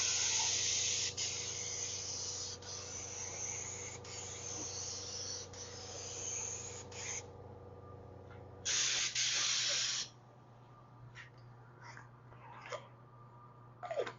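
A paint spray gun lays a wet coat on a car bumper cover in a messy garage, a loud close hiss running in long bursts with brief breaks, then one last short burst before a quieter tail.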